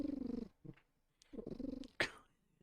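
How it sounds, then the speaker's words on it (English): A cat purrs loudly and close up in steady rumbling cycles, with a brief higher squeak or meow near the end. "Loud purring, isn't it?"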